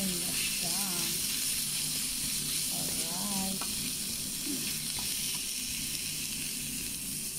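Garlic and coriander sautéing in a pan for chicken with molokhia give a steady, close hiss of frying that runs throughout, with faint voices in the background.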